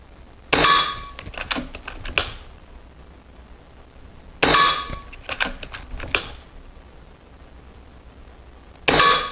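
An air gun firing a diabolo pellet into ballistic gelatin, each sharp crack followed by metallic clatter and handling clicks, repeated three times at close range with quiet gaps between.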